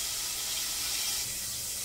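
Water running from a tap into a cooking pot, a steady bright hiss and splash that holds an even level for the whole short stretch, alone with no voices.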